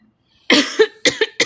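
A man coughs in a quick series of four harsh, close bursts after a moment of near silence.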